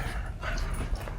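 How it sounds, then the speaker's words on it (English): A dog growls low and rumbling at another dog or child indoors, a brief steady grumble with faint whimpering, close by and without talk. "Ginger, you down there growling at Grayson"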